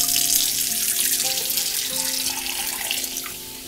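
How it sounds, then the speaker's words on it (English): Tap water runs from a faucet into a vase, a steady splashing stream with a rising tone as the vessel fills, close and loud, slowly softening toward the end. "I'm going to get some water in it."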